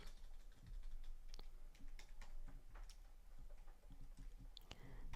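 Fingers typing a search on a device, quick irregular clicking keystrokes up close over a low background hum.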